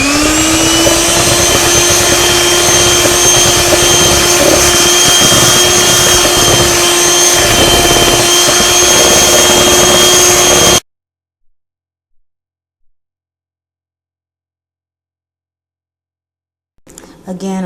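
An electric mixer whirs steadily as it blends flour and milk into yellow cake batter. The motor whine holds loud and even for about ten seconds, then cuts off into near silence with a few faint clicks and a brief noise at the end.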